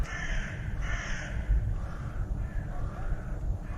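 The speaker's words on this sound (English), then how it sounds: "crows are loud today" Crows caw outdoors in a series of harsh calls, a few near and loud at first, then fainter repeated caws over steady background noise.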